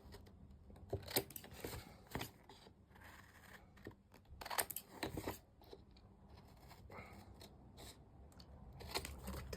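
Scissors snip and scrape repeatedly, close and fairly quiet, with irregular cutting strokes and small rustles in between.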